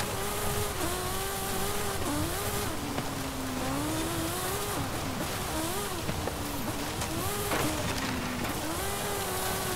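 Yokohama Alpha offroad racer from the 2020 Sierra Cars series driven hard in Forza Horizon, its engine droning loud and steady with pitch rising and dipping through gear changes and throttle lifts, no talk over it.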